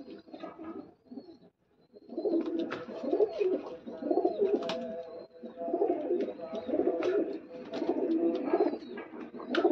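Pigeons coo repeatedly in a close, steady chorus of soft rolling calls with brief pauses, one bird louder than the rest, alongside a few higher chirps.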